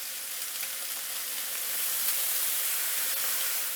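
Steady, bright sizzling of steak frying in a hot pan, continuous and close with no talking.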